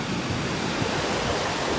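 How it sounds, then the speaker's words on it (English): Ocean waves rolling onto a beach with a steady, loud wash of surf and wind noise, continuous and close, with no voices. "see all those waves coming in?"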